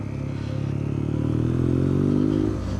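A BMW R nineT Urban GS motorcycle rides along Lake District roads, its engine droning loud and steady with a low throbbing note that rises slightly in pitch as it accelerates, wind and mechanical clatter layered over it.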